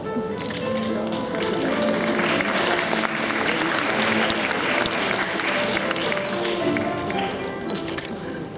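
Sustained, dense applause from a large crowd at the Tuen Mun Government Primary School graduation ceremony honours award-winning students, steady and loud throughout with a hum of voices beneath.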